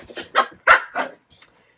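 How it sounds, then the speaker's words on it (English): Three puppies, a white dog, a beagle and a Jack Russell, bark indoors in a room: four sharp close barks in quick succession, followed by a fainter short yip. "we just got new puppies. All three of them are in the room right now. Two of them are being bad"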